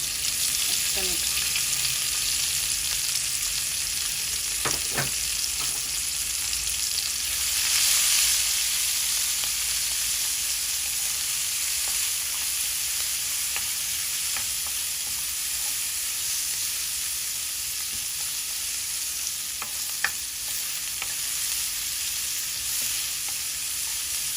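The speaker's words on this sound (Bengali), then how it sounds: "রসুন পেঁয়াজ একটু ভাজা ভাজা হোক" Continuous sizzling of garlic and onion frying in oil, a steady crackling hiss with occasional faint clicks of stirring, no talking.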